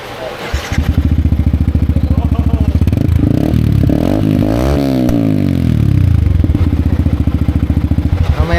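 A Yamaha MT15 motorcycle fitted with a replica pro exhaust pipe idles with a rapid, steady pulse, then revs up and back down in a smooth swell before settling into idle again. The exhaust is close and loud.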